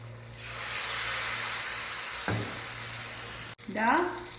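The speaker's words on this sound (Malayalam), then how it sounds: "ഇതിലേക്ക് എണ്ണയിലേക്ക് മുക്കി ഇത് നമുക്ക് പൊരിക്കുകയാണ് ചെയ്യുന്നത്." Ripe plantain slices for ethakka appam fry in hot oil, giving a steady close sizzle with a brief crackle as a piece drops in and a louder bubbling burst near the end.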